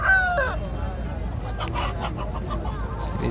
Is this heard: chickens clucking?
yes